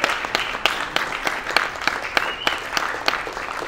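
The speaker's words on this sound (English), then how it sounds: "let's turn and clap" Steady applause from a conference audience at a film-composing talk, dense clapping with a few sharper claps standing out, heard close and continuous throughout.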